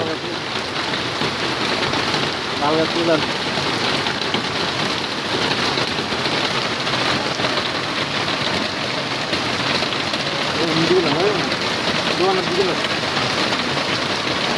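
Heavy rain pours steadily in Noakhali, a dense, continuous hiss on surfaces close by, with occasional voices faintly underneath.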